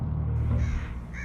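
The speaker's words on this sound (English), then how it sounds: "They saw a flock of crows pecking at something" Crows caw harshly in a short sound effect, several raspy calls over a dense low rumble, fairly loud and close.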